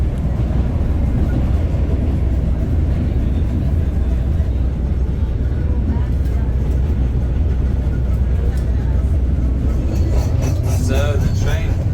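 Steady low rumble of a moving train heard from inside its restroom, on the route from Cusco to Aguas Calientes, Peru, with constant rolling noise and faint rattles; voices murmur at times.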